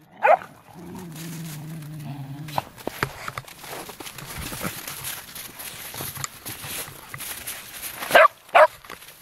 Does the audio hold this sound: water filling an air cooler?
no